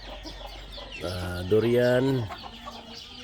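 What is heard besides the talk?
chickens clucking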